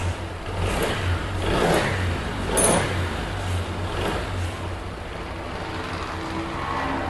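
A motorcycle engine with a freshly restored throttle body and fuel injector revs close by, its steady drone swelling and easing in several throttle blips, with no talking.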